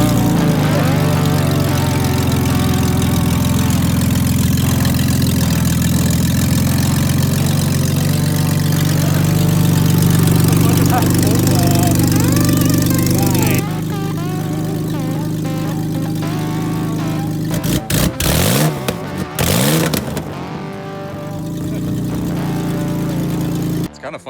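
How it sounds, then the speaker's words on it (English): A 302 Ford V8 in an F100 pickup idles with a header leak, a loud, steady, lumpy rumble with a ticking exhaust note, then a changed tone partway through with several sharp bursts near the end. "Kind of sounds like an old V-dub at idle."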